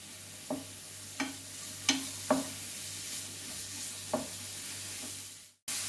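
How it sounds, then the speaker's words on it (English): Finely chopped onions sauté in hot oil in a pan, a faint, steady sizzle with several sharp scrapes and clinks of a stirring utensil at irregular intervals, ending in a brief drop to near silence. "once this oil gets hot, I'm going to add my chopped onions"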